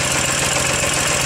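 An air-cooled engine idling around 1050 to 1100 RPM just after a cold start, a loud continuous close rumble with an even pulsing beat throughout the short stretch.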